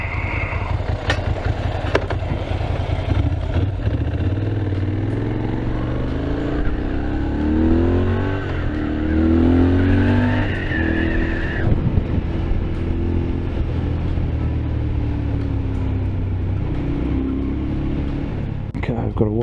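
A motorbike engine drones steadily throughout at close range, rumbling and rattling as it rides, with pitch rising and falling through gear changes.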